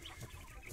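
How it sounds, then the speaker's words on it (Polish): An Italian breed rooster clucks briefly and close by, short throaty calls over a steady background hum. "to jest kogut Italian."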